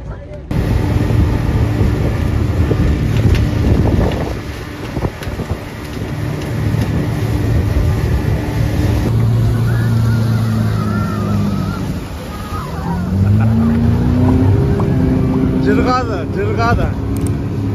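A motorboat ride on Issyk-Kul lake, with a loud continuous engine drone and water rush throughout, rising and shifting in pitch as the boat moves, while people talk over it.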